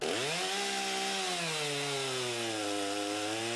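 Close, loud Stihl MS-261C gas chainsaw buzzing at high revs as it bites into a log, the engine pitch dropping and settling under load as the cut continues steadily.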